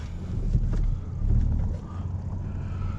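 An MK5 Golf R32 is driven from the cabin, with a steady low engine and road rumble plus some wind noise through open windows over a few seconds.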